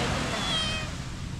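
A cat meows once, a short rising-and-falling cry heard close over steady outdoor background noise during a morning walk.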